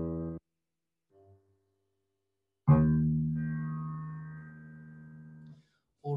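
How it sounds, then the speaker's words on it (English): The opening three notes of Schoenberg's passacaglia: a short, clipped tone, a faint brief one after a pause, then a loud sustained note that slowly fades out before another begins. "Schoenberg presents us with just three notes"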